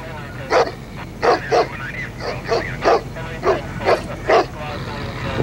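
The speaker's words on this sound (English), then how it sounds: "Dog's making a lot of noise." A dog barks in a rapid series of sharp, close yips and woofs, about eight bursts with brief whines between them.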